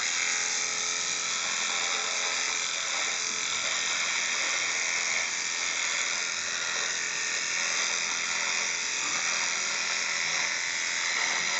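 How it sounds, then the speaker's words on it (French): A Philips Aquatouch electric shaver, used as a trimmer through shaving cream, buzzes close and continuously at an even pitch for the whole stretch, with no voices. "Essayer la tondeuse avec la crème à raser, on va voir ce que ça donne."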